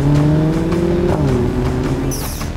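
A car engine revs up and pulls away, a steady loud motor roar with rising pitch bends, a brief tire squeal near the end, with trailer music mixed in and no talking.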